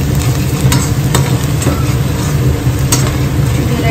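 Two onions frying in a pressure cooker for chicken curry, a loud, close, dense sizzle with a heavy low rumble and a few sharp scraping clicks over four seconds.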